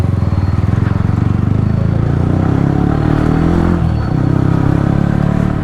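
Superbike engines such as a Honda GTL1600 and BMW R18 idling and revving nearby during unloading, a steady loud low rumble with clatter and scraping, briefly dipping around the fourth second.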